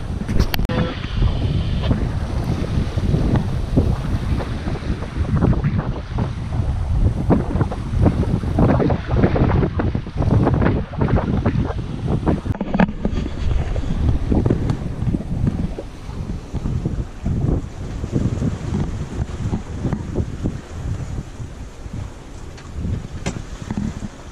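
Waves rushing behind a Dana 24 sailboat at sea, with strong wind buffeting throughout: a continuous, loud roar of wind and water with surging swells.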